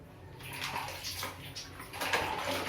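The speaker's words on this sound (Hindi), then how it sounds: "आप अच्छे से पानी क्लीन कर लीजिए केकड़ा को" Crabs (mud crabs, not sea crabs) being washed clean of mud in a basin of water, giving continuous sloshing and splashing with brief louder splashes near the end, close and steady with no talk.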